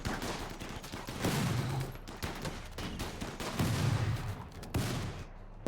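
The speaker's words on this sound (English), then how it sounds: "there went the rocket launcher" A rocket launcher fires during video game combat, heard as dense, sustained blasting and rumbling explosions that stay loud throughout.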